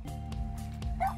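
A cartoon puppy in the video game Little Misfortune lets out a few short yips and barks over a steady humming music bed, close and clear, ending on a higher whimpering yelp.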